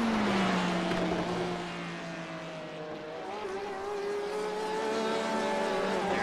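Race car engines in a sim racing endurance event at Sebring drone together, pitch sliding down as a car brakes and then climbing steadily along a straight, with no talk over the engines.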